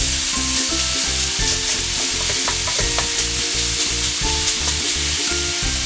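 Sliced burdock and pork stir-fry in a pan, with a steady loud sizzle and repeated rhythmic scraping and tossing of the spatula against the pan.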